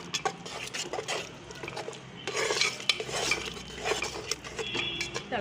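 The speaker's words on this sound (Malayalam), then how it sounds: "എന്നിട്ട് നല്ലതുപോലെ നമുക്ക് ഇളക്കി കൊടുക്കണം." A spoon stirs eggplant curry with coconut-onion paste in a pan, giving repeated scraping strokes and clinks against the metal, moderately close and unaccompanied by talk.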